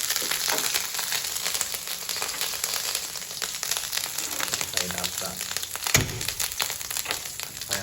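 Thai red curry paste stir-fried in a hot pan for a spicy stingray curry, a continuous crackling sizzle with scraping and stirring noises throughout and a brief clunk partway through.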